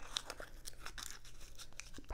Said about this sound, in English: it's a gum chewing one.